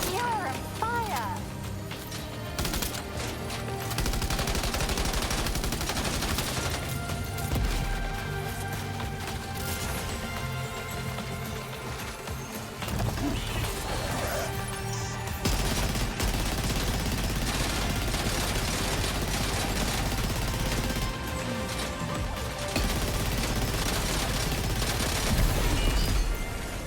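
Sustained heavy gunfire and booming impacts during the giant BT final boss fight in Death Stranding 2, continuous and loud for the whole stretch, with voices calling out over the battle.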